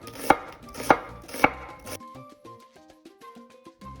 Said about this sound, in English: So we're gonna cut it thinner than what we usually do